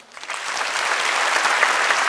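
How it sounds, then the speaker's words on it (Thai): An audience applauds at a Thai awards ceremony, the Khon Khon Khon Awards, in a dense, steady burst of clapping that swells quickly and holds loud throughout. "เสียงปรบมือนี้จะเป็นกำลังใจให้"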